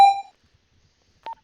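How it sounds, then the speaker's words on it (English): Panic button alarm in a Los Santos video game: a sharp, shrill electronic tone sounds loudly and briefly, then after a pause a second, shorter double beep follows faintly in silence. "in the shrill tone of those panic buttons which you hear now"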